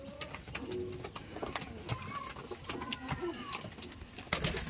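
Pigeons on a pigeon farm coo steadily throughout, soft repeated throaty calls overlapping from several birds, with faint flutters and background noise and no talking.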